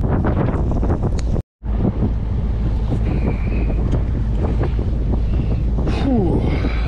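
A bass fishing boat speeds across the California Delta with heavy wind buffeting the microphone. Engine and water rush roar loud and steady, broken by one brief dropout, and no one speaks.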